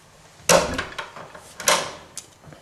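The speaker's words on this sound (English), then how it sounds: "Let's close the door." A closet door in a house swings shut on a very large, five-foot-deep closet, giving two sharp wooden knocks about a second apart, the second followed by a lighter rattle, close by in a quiet room.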